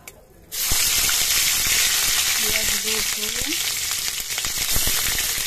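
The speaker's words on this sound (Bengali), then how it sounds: "এবার কালো জিরেটা গরম হয়ে যাওয়ার পর এবার এর মধ্যে দিয়ে দিচ্ছে কিছু আদা বাটা করে পেঁয়াজ।" Ginger paste and onion drop into hot mustard oil with black cumin, setting off a sudden loud sizzle that settles into a steady crackling fry, with faint voices murmuring briefly in the background.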